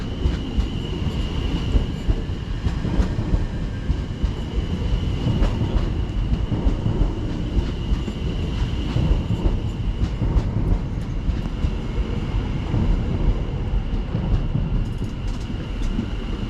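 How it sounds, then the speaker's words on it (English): A terminating Greater Anglia service from Cambridge North pulls into a Cambridgeshire station platform. A loud, steady rumble of wheels on rails carries a sustained high squeal throughout, with no talking. "in comes the terminating Greater Anglia service coming in from Cambridge North"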